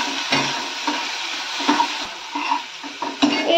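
A spice paste of ground mustard, green chilli and salt sizzles in a pan for a fish curry, a continuous bright frying hiss with repeated scraping and tapping of a spoon as it is stirred.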